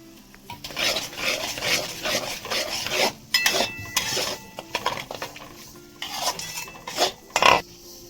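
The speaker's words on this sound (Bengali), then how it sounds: "আর একটু সময় এটা কষিয়ে নেব মশলাটা" A spatula stirs and sautés thick masala gravy with fresh cream in a pan, making loud, close scraping and rasping strokes in an uneven rhythm with occasional metallic clinks, without speech.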